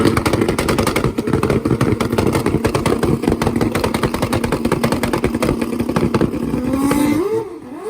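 A 700-horsepower Kawasaki ZX14 turbo drag bike on a street tire without a wheelie bar roars loud and close at the drag strip as its tire spins, a steady high engine drone that dips and wavers as the revs drop at the end.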